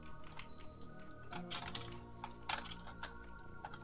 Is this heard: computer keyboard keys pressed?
yes